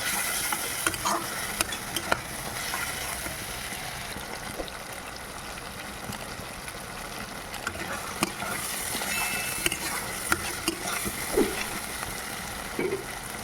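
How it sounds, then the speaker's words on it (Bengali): Sugar, chili powder and turmeric fry in oil while being stirred in a pan, a continuous close hiss and crackle with occasional soft scrapes and taps of the spoon, steady throughout and free of talk. "আমি এবারে দিয়ে দেবো এখানে চিনি আর গুঁড়ো লঙ্কা আর অল্প একটু হলুদ, দিয়ে ভালো করে কষাবো"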